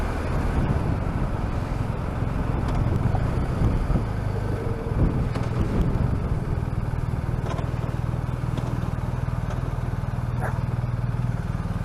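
BMW R1250 RT motorcycle ridden in third gear, a steady low engine drone with rushing wind noise against the microphone throughout.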